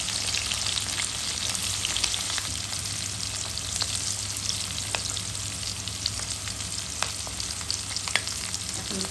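Onions fry in leftover oil from frying rohu fish, giving a steady close crackling sizzle with scattered sharp pops and light stirring, continuous and without voices.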